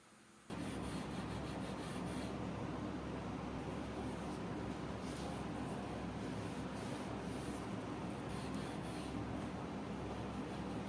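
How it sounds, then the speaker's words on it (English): Steady, continuous scratchy rubbing of a hand sanding block on the wood of an antique chest of drawers, close and even in rhythm, running unbroken for several seconds with no voices. "sanding blocks on this to get in some of the more narrow details"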